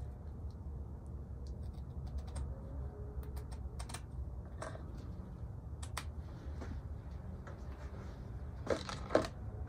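Small snips and clicks while trimming a bonsai pot drainage screen, soft scattered ticks over a low steady background hum, with a slightly louder snip near the end.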